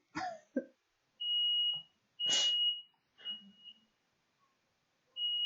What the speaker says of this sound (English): oh no, fire alarm!